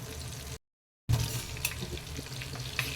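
Chicken legs fry in hot oil with a steady, crackling sizzle close by; the sound drops out for a moment, then resumes with occasional louder pops.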